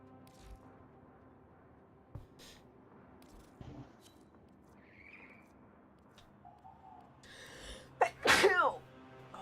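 A single sharp human sneeze bursts out loudly near the end, following a stretch of quiet room noise with faint clicks and a brief voice.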